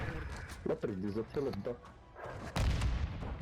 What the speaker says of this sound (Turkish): Ama zaten bomba hallediyor işini.